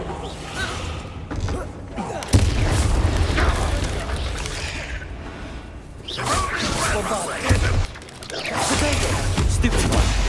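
Bombarda spell blasts in Hogwarts Legacy land as two heavy, sudden booms with rushing, whooshing tails, set among ongoing spellcasting clatter and a voice speaking through the fight.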